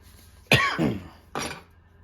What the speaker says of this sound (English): Always makes me cough a little bit.